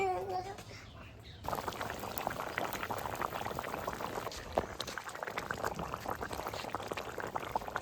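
Chitol fish curry with potatoes bubbles steadily in a pan, a continuous dense boil that rises sharply after a quieter first second and then holds at an even, close level.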